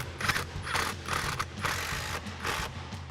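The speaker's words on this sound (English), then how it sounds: "we'll go ahead and grab that T50 Torx bit and extension on our impact, and we're just going to go ahead and get these nice and snug" An impact driver with a T50 Torx bit and extension snugs down seat bolts in a 2016-up Camaro, producing loud, close rattling hammer bursts that pulse repeatedly with short pauses between them.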